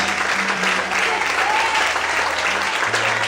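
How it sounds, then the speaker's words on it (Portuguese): A church congregation claps steadily and loudly for several seconds during a sermon, with a low hum and faint voices underneath the applause. "Quando pode aplaudir o Senhor"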